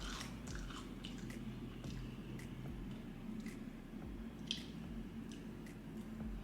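Prawn-flavoured potato chips from Singapore being bitten and chewed close up, soft crunches and moist chewing under a steady low background hum, no talk.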